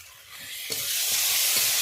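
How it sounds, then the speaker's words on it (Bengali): Spices with salt stir-fry in hot oil for a rohu fish curry, a brief close sizzle that swells louder partway through with a light scrape of the spoon. "স্বাদ মতো লবণ দিয়ে কিছুক্ষণ ধরে একটু কষে নেব।"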